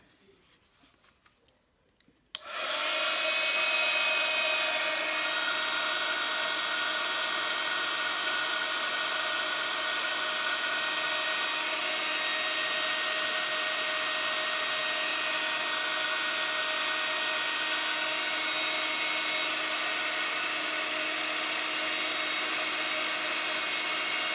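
A heat tool blows hot air over embossing powder on a handmade Christmas card, starting after a short quiet moment with a click, then a loud steady whirring roar that runs without a break.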